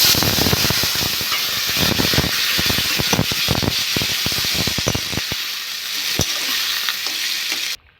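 Fish frying in hot oil gives a loud, steady sizzle and hiss with crackles and stirring clatter close by, lasting several seconds before cutting off abruptly, with no talking.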